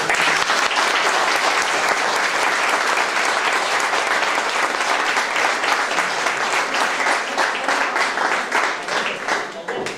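Audience at a live event applauding presenters, dense sustained clapping from many hands throughout, steady and loud before tapering slightly near the end.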